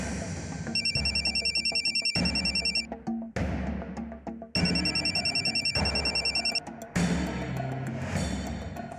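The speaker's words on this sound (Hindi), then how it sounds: "फोन नहीं उठा रही है।" A telephone rings again and again with no answer, each electronic trill burst repeating in a steady pattern, close and fairly loud over a quiet room.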